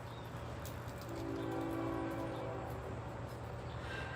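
A northbound freight train passes at Dalton, Georgia, a steady low rumble of rolling wagons with faint higher squeals, fairly loud and continuous, no talk.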